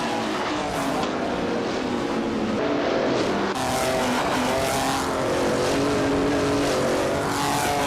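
Race cars roar past each other during a race. Engine noise stays loud and constant, with layered whines shifting pitch as cars pass, and a brief jolt partway through.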